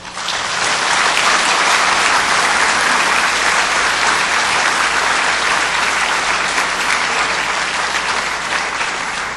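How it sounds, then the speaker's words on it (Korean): A large audience bursts into vigorous applause to open a commemorative lecture marking the first anniversary of the October 4 inter-Korean summit declaration, a loud, dense and sustained wash of clapping from start to finish. "이제 여러분들의 힘찬 박수와 함께 이 뜻깊은 행사를 시작하고자 합니다."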